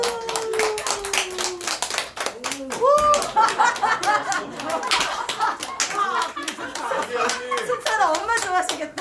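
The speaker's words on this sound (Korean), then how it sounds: "박수하겠습니다" A church audience claps in a burst of sharp, dense hand claps over a few seconds, with people talking and calling out over the applause.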